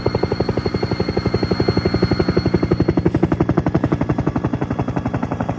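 Helicopter sound effect: loud, close rotor chop in a fast, even pulsing rhythm that holds steady throughout, alone without voices.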